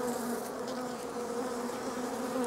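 Robber bees swarm around an open beehive, making a steady, dense buzzing drone that fills the scene closely and continuously with no other sounds.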